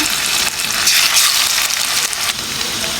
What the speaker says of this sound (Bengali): পরিমাণ মতো তেল দিয়ে দিলাম, মাছটা করে দিলাম